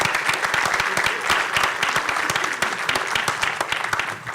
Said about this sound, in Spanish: Pues un aplauso, por favor, para el maestro José Refugio Muñoz